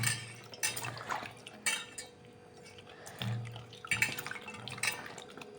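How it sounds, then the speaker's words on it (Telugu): Green chillies being washed in water in a home kitchen for a chutney: soft splashing and dripping comes in short bursts, along with faint clinks of a bowl or utensils, close and quiet, with no talking. "ఈ పచ్చిమిర్చిని వాటర్లో కడుక్కుందాము"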